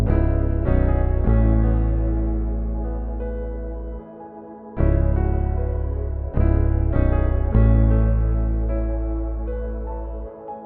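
A melody for an emotional beat made in FL Studio, with piano layered over a Rickenbacker bass preset. Deep sustained bass notes sit under repeated piano phrases, with clean attacks every few seconds and no voices.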